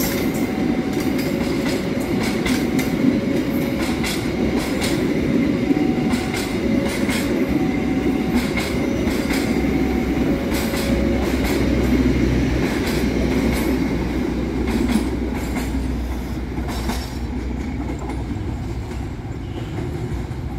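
A train rolls slowly through the Andir station construction site, its steady loud rumble carrying rhythmic wheel clicks and faint squeals that run continuously for the whole stretch.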